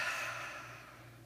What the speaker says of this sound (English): Listen to the sound of our breathing.